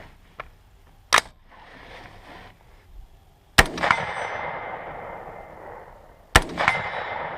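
Three sharp rifle shots ring out several seconds apart, each followed by a metallic ring from steel targets downrange and a lingering outdoor echo, with quiet rustling between.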